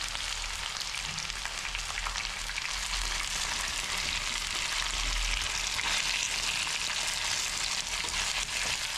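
Taro root pieces fry steadily in oil in a pan, a continuous dense sizzle that holds at an even level from start to finish with no voices over it.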